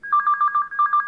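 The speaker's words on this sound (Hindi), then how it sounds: "घंटी बज रही है" A landline telephone rings in a film scene from the comedy Hera Pheri, a steady electronic double-tone ring repeating in quick even pulses, loud and close with no talk over it.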